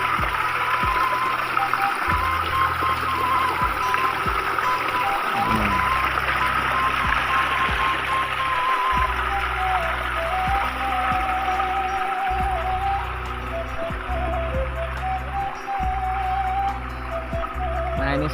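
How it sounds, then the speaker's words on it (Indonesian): Clear water streaming out of cracks in rock cliffs and flowing down at a village spring, a steady rushing wash under a constant low rumble, with a thin whistling flute-like tone drifting on top. "airnya itu dari belah-belah batu ya, dari tebing-tebing, keluar dari tebing-tebing mengalir ke sini teman-teman"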